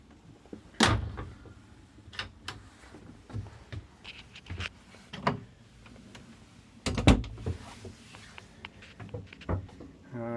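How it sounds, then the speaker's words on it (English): Interior cabin door on a sailboat closing near a hanging locker, heard as several sharp wooden thumps and clicks spread through the clip, close and fairly quiet, with faint talk in the background. "Close the door"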